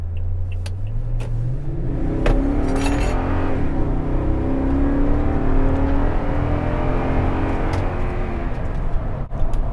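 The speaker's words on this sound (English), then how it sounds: "A very healthy V8 is something I always appreciate. It sounds pretty good too." A 2018 Toyota Tundra with the 5.7-litre V8 accelerates hard on the road, its engine note climbing steadily in pitch and staying loud and continuous throughout, with no talking.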